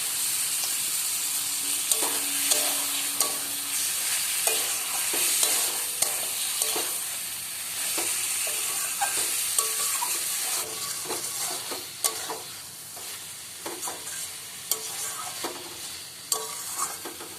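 Marinated chicken stomach, liver and neck sizzle in a pan while being stir-fried. A constant dense hiss carries throughout, broken by frequent scraping and clicking stirs of a utensil close by, with no voices.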